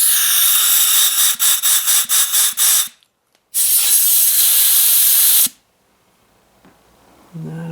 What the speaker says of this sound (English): I'll give this a little shot up here of some air